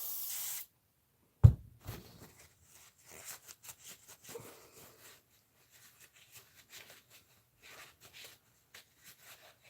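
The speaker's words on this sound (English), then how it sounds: "And I'll just give it a little spray in here." A short hiss of a cleaner spray bottle opens the clip, followed by quiet rustling, scrubbing and small handling noises close by, during maintenance of an Arrma RC car.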